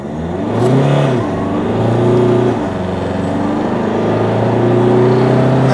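A Seat Leon 1.6 diesel car accelerating hard from standstill in a 0-100 test, heard from inside as a loud engine drone rising in pitch through gear changes, with no talk.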